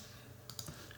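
A quick pair of computer mouse clicks while editing in DaVinci Resolve, faint and close against low room hum.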